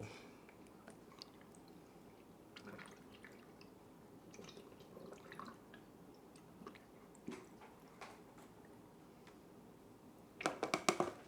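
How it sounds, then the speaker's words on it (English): Developer liquid pours into a small Unicolor film developing tank, a faint, steady trickle and dribble running for several seconds, ending in a brief louder burst of splashing and clatter. "All right, so pour in for the unicolor tank in 3, 2, 1, go."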